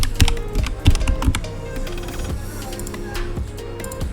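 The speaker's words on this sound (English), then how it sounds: "I'm gonna click on the background and then type Kylian." Typing on a computer keyboard, a run of close, quick key taps with a few heavier strikes at the start, then lighter steady clatter.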